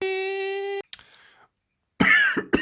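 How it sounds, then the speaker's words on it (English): A person's coughing fit while handling an Umarex Glock 17 Gen 4 replica airgun: a held tonal note cuts off, then a few short harsh coughs and throat-clearing bursts, close and loud, with brief silence between. "Coughing fit mid video."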